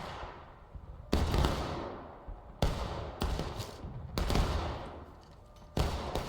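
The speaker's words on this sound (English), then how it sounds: "there's more shooting off on our right" Civil War musket gunfire in War of Rights at South Woodlot: five or six sharp, echoing shots crack out at irregular intervals from some distance, each leaving a rolling decay.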